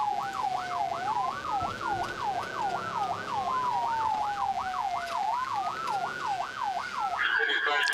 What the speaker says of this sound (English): Cut the sirens.